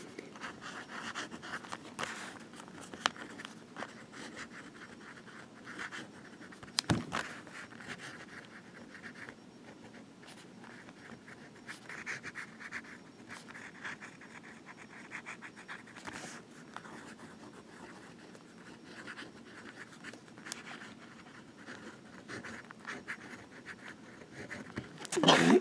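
Monteverde Invincia fountain pen with a medium steel nib scratching across paper in short, faint strokes, close and intermittent, with occasional paper handling and quiet background noise.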